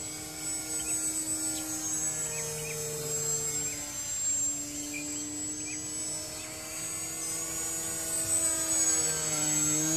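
A Visionaire RC trick plane flies past with a steady whining motor drone that rises and falls in pitch as it moves, heard alone throughout.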